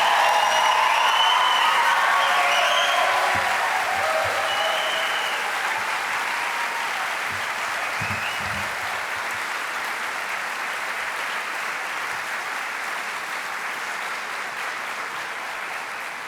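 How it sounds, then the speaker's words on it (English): Sustained applause from a large audience at a graduation convocation fills the hall, loud at first and slowly fading over about sixteen seconds, with a few faint cheers mixed in. "Y'all give a big round of applause to the BLA."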